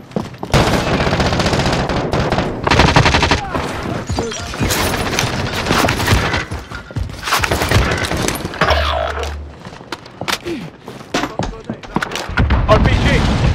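Heavy gunfire in Warzone on Rebirth Island, dense bursts of automatic fire and sharp booms from hostile players that come in waves, with players talking over the shooting.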